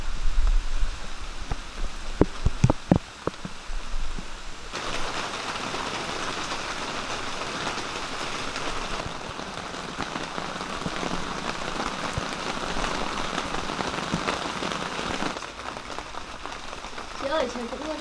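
Steady rain patters on a surface around an abandoned house in the bush, a dense continuous hiss that swells louder midway, with a few sharp knocks and brief voices early on.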